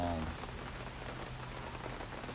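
Rain falls steadily outside by a back porch, a broadband hiss that stays even and continuous throughout, with a brief low hum at the very start.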